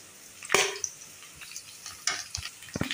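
Potatoes coated with chaat masala, cumin-coriander powder, turmeric and chili powder are stirred in a pan for a spicy aloo fry. A sharp spatula scrape opens, followed by a few lighter scraping strokes over a soft sizzle, with no talking.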